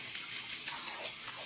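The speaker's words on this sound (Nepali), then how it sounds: "यसरी पानी छिटो गरेर जान थाल्यो" Water drains quickly down a sink drain cleared with unclogging gel, a soft, steady rushing gurgle heard faintly and continuously with no talking.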